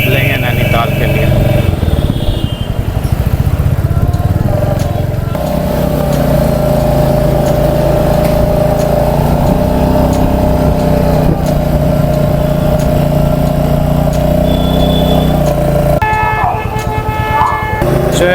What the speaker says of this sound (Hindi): तो हम लोग अभी फाइनली बाइक लेके निकल चुके हैं।